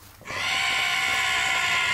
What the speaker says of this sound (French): avec la touche 1, on peut bêler